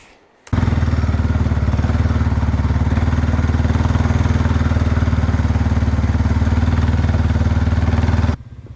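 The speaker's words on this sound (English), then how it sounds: "It was a very slow four-wheeler ride out back." A four-wheeler (ATV) engine drives slowly while towing a trailer out back to a cabin. It runs as a steady, close, even drone for about eight seconds, then cuts off abruptly.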